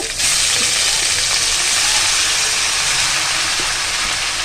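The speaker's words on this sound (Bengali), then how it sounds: "কি সুন্দর একটা সাউন্ড আসছে তেলের উপর ছাড়ার পর" Loud, continuous hissing sizzle of boiled leafy greens hitting hot oil with fried onions, steady and close throughout with no talking.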